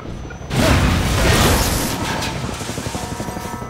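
A combat helicopter roars in during Half-Life 2: Episode 2, starting with a sudden loud blast of broadband rotor and engine noise after a short quiet lead-in. It then holds as a sustained, churning rumble with a faint rhythmic chop and no talking.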